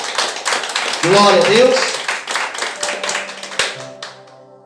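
Congregation in a church clapping together in loud, sustained applause for a few seconds, with a voice calling out over the clapping before it thins and fades.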